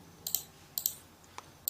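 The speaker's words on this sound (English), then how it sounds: "Just we are typing this expression or this equation in this calculator." Calculator keys pressed while entering an equation, a few sharp, faint clicks in pairs and singles spaced irregularly over a quiet background.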